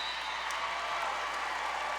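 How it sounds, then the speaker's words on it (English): A volleyball crowd at a Wichita State match against Memphis cheers and applauds in a steady, dense wash of claps and voices filling the whole moment, fairly loud and continuous. "this crowd starting to get excited here in set 1"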